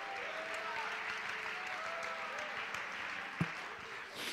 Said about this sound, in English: Somebody clap your hands and praise Him right now.